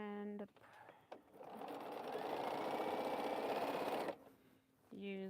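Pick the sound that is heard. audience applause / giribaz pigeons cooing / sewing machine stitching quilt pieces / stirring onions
sewing machine stitching quilt pieces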